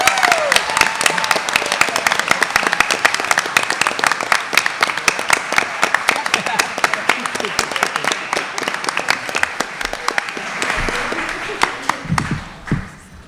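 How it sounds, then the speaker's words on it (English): A school audience gives a big round of applause for the highest-ranking Pleasantville Science Olympiad team at a student recognition event, dense steady clapping that continues for several seconds before thinning out at the end. "Great big round of applause, everybody."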